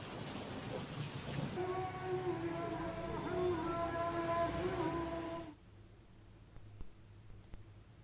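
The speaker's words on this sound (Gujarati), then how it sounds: "કડાકા ભડાકા સાથે વરસાદનું આગમન થયું હતું।" Monsoon rain falls in a steady, dense wash during a thunderstorm, with tonal background sound layered over it. The rain cuts off abruptly partway through, leaving near quiet.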